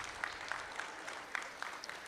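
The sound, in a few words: audience applause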